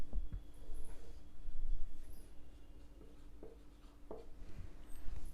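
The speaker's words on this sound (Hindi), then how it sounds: "देखो इधर लिखती हूँ मैं" Marker or chalk strokes on a classroom board during a geometry lesson: a few short scratchy squeaks and taps spaced out over a low steady hum, fairly faint and close, with no talking.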